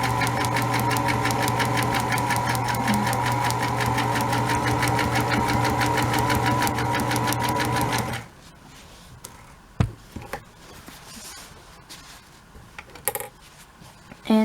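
A sewing machine runs fast and steady, stitching quilting lines in dark thread on felt for a coat. It hums loudly and evenly for about eight seconds, then stops, leaving soft handling clicks and thumps.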